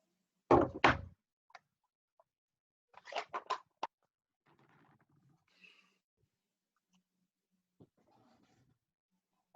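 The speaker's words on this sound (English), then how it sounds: "I hear car doors closing." Car doors shut outside with a heavy thud, then a quick cluster of sharper thumps, followed by faint scattered knocks in otherwise quiet surroundings.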